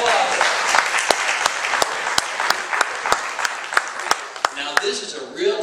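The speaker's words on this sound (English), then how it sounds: "Give him a big round of applause." A theater audience at a live comedy and juggling show applauds steadily for nearly six seconds, many hands clapping close with a few louder single claps standing out, before the applause thins and a voice begins talking over the tail.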